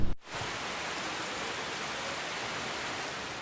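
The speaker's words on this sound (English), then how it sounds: "The thing about a rainforest is that it rains constantly." Rain pouring down in a tropical rainforest, a dense, steady broadband hiss of falling water that starts after a brief cut and continues evenly and close throughout.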